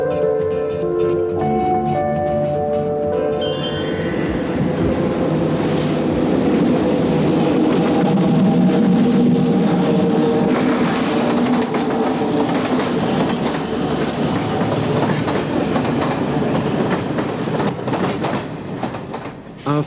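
A train on a European rail journey pulls into Vallorbe station at the France–Switzerland border, with steady loud rumble and clickety-clack of wheels over rail joints that stays continuous, easing slightly near the end.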